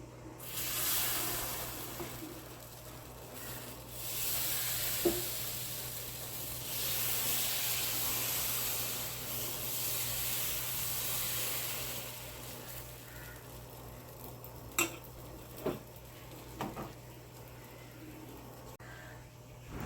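Dosa batter made from dosa powder, curd and water cooks on a hot pan, giving a steady soft sizzling hiss that swells and fades, with a few sharp clicks and no talking.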